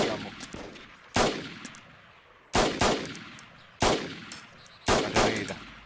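Four loud, sharp gunshots in the video game DayZ, with booming reverberant tails, spaced roughly a second apart, each decaying before the next; no talking.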